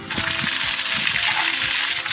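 Running water pours steadily from a chemical safety shower on a pastoral property, a loud, continuous gushing splash close by with no pauses.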